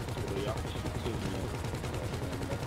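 Rapid automatic gunfire in GTA V, a dense continuous burst of shots mixed loudly with game sound, while a voice talks over it.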